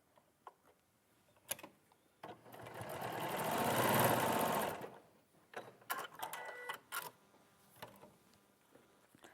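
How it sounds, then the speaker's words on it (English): A sewing machine stitches a seam on a quilting piece, a steady whirring run of about two and a half seconds in the middle, with quiet clicks and handling noises before and after. "So I'm just going to sew that one into place."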